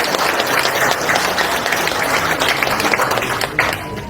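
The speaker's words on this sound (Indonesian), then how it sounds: "sekali lagi tepuk tangan untuk semangat itu" Sustained applause from a crowd of supporters at an Indonesian political gathering, a dense steady wash of clapping filling the room at full strength throughout.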